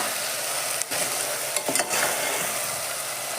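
Onions fry until reddish in a pan for kichadi, a steady close sizzle with a few quick scraping clicks of the spatula stirring them.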